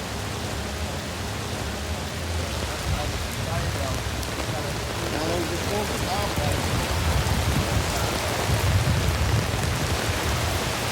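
Heavy rain pours steadily at an open-air concert, a dense, loud wash of drops on surfaces that stays constant and slightly swells toward the end.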